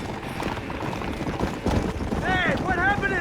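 Hooves of horses galloping in Red Dead Redemption, a rapid clattering rhythm under shouting voices and game ambience, with a whinny-like tonal call near the end.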